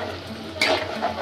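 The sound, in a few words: stirring soaked lentils into beef haleem in pot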